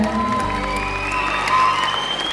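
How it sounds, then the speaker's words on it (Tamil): Applause from an audience honoring Dr. Aravind at a Tamil conference-style event, a steady wash of clapping with some cheering, held at an even level for a couple of seconds. "டாக்டர் அரவிந்த் சாருக்கு ஒரு பெரிய கைத்தட்டல் கொடுங்க முதல்ல."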